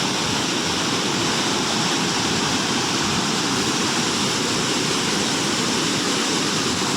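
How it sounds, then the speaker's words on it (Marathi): Ozar waterfall at Bhiravande in Kankavli pours down in a dense, unbroken roar of rushing water, steady and loud throughout, with no voices over it. "बघा धबधबा"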